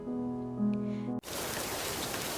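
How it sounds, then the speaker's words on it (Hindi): Evening rain falling in a garden in a spoken Hindi love story. A sustained musical tone cuts off abruptly, and a steady, dense hiss of rain takes over and continues alone. "एक शाम बारिश हो रही थी"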